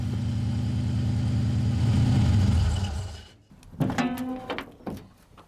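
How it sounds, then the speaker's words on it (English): A turbocharged 3.9 litre Rover V8 in a Zodiac estate runs with a steady, loud low rumble that fades after about three seconds, followed by a few knocks and clatters nearby. "It's a straight Rover V8, just like you'd have in a Land Rover."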